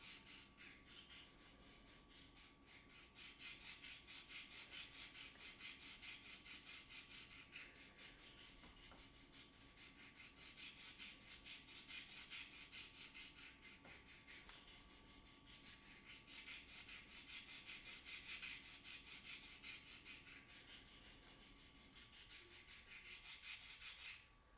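Pocket knife blade honed on a sharpening stone at about a 22.5-degree angle, close rhythmic scraping strokes repeating steadily back and forth with brief pauses, no talk.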